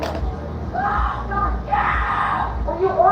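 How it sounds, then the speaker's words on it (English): Person screaming at a street protest, drawn-out yells rising in bursts over a crowd murmur and nearby voices, heard at moderate distance. "Oh, the screamer is still down here."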